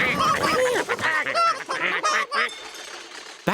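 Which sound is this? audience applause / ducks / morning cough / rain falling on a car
ducks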